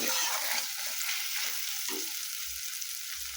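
Spice masala frying in a pan while being stirred, a loud dense sizzle that runs steadily throughout with soft stirring movements beneath it, heard close with no voices.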